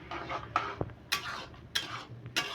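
Helencha greens and small fish are stirred in a pan, with repeated scraping strokes and metallic clinks of the utensil against the pan, roughly four distinct sweeps in quick succession, close by.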